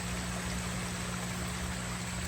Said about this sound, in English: See the waterfall there.